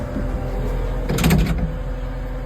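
The front door of a brand-new Sany skid steer opens or closes in a single short sliding clunk about halfway through, set against a steady low background rumble with no talking.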